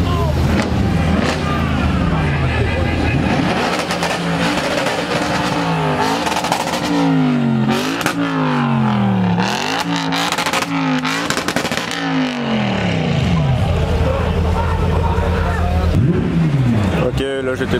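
A Porsche GT3's engine revs hard in repeated rising and falling sweeps, bouncing off the rev limiter, loud and close amid other cars, with people talking over it throughout.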